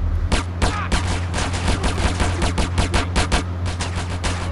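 Rapid, dense gunfire from GTA San Andreas, loud and continuous, with overlapping shots in a steady automatic-weapon rhythm.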